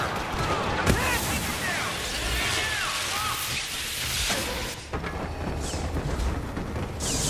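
Blaster fire from a Star Wars Battlefront battle crackles in a continuous dense barrage, with rapid zaps and bursts layered over explosions and a constant roaring din, loud and busy throughout.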